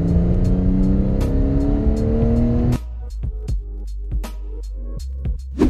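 A 2011 Porsche Carrera 4S carrying a roof transport rack cruises on a highway, its engine a steady loud drone with road and wind noise that drops abruptly to a quieter rumble partway through, with some scattered clicks.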